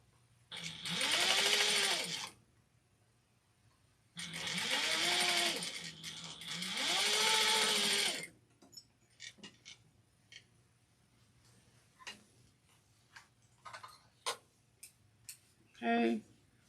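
A sewing machine runs three steady bursts, each a couple of seconds long, sewing basting stitches on a witch hat, followed by light clicks and fabric handling; a voice speaks at times.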